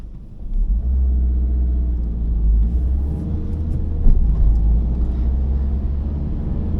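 A Citroen C-Elysee 1.6 HDi diesel car heading onto the Bursa–İzmir highway in rainy weather, heard from inside as a low steady cabin rumble that swells slightly as it accelerates.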